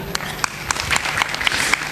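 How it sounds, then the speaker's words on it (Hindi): An audience applauding at an indoor talk, a dense patter of clapping hands close by, with a voice speaking faintly underneath. "तालियां।"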